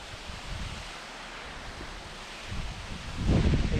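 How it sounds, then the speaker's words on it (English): Rushing water from a waterfall at an abandoned dam in Braemar, Scotland roars steadily in the background, mixed with wind buffeting, swelling louder near the end. "it's so cool with the noise of the waterfall there just in the background"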